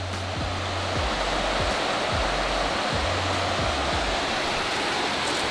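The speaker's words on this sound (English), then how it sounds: "Look at that waterfall." Waterfall on a snowy winter hiking trail, a loud, constant roar of rushing water that fills the whole soundscape without pause.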